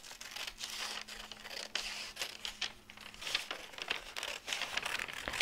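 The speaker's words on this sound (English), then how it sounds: "take some scissors for paper and cut it out exactly on the line that I've traced" Scissors cutting a paper template along a traced line for a patchwork Christmas stocking, giving steady close crinkling and snipping paper sounds with no talk.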